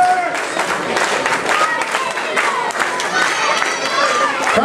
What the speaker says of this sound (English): Crowd really rallying behind Jamie Olivencia now